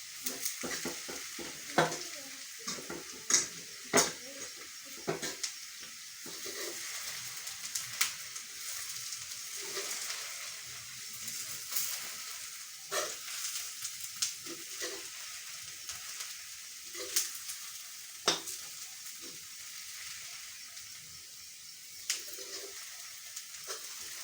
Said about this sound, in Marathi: त्यात थोडीशी हळद टाकते आणि हलवते।